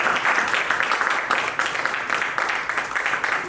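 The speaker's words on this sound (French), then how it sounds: "Je vous demande de faire un tonnerre d'applaudissements pour Monsieur Cédric Tourisson" Sustained applause from a conference audience, steady clapping that keeps going throughout with slight swells.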